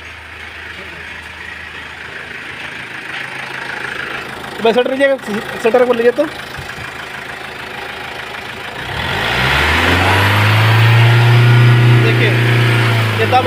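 A Mahindra XUV 500 engine with poor pickup and a check-engine light idles steadily under the open hood, growing louder and fuller near the end, while a mechanic talks over it.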